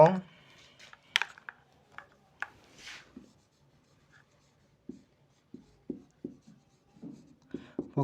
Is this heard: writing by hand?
yes